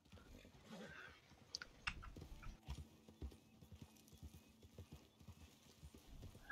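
Horse hooves clip-clopping in the Red Dead Online video game, a busy, uneven run of hoofbeats with a brief whinny, sounding near and fairly loud, with some game noise and faint voices in the background.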